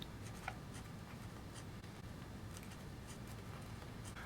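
Faint scratchy strokes of writing on a board or tablet, short intermittent marks over a steady low background hum, quiet and close.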